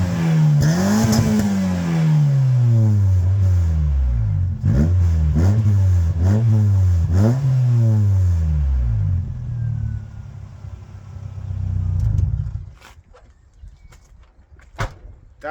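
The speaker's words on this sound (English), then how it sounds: "I left the car running on purpose just to see if it would splutter after a few minutes idling" A Toyota Corolla engine idles with a steady low rumble, then revs up and down in a string of repeated rising and falling surges before settling back to a quieter idle, close and loud, with no talking.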